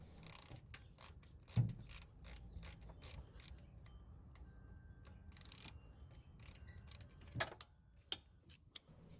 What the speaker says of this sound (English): let's bring down the bolts so they're almost snug, but loose enough so the alternator can still move